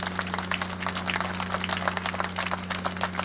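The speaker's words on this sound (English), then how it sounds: "So a round of applause for for the St. Louis Auto Racing Fan Club." A crowd at a Lake Hill Speedway reunion claps for the St. Louis Auto Racing Fan Club, with distinct, fairly quiet clapping in an uneven rhythm over a steady low electrical hum.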